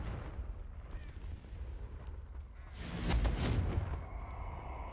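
Confringo explosive spell from Hogwarts Legacy bursting in a single sharp, fiery blast with a crackling high-end flare and deep thump, rising out of low ambient rumble and fading over about a second.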